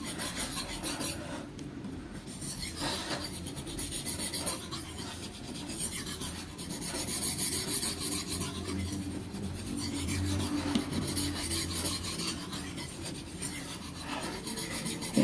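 A kitchen knife is sharpened on a hard Bogor whetstone, giving a steady, close raspy scraping that repeats in continuous strokes, with no talk over it.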